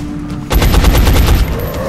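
Gunfire in XCOM: Enemy Unknown on PC, aimed at an enemy above the shooter: after a brief quiet lead-in, a loud, close, rapid rattle of automatic shots runs continuously for over a second.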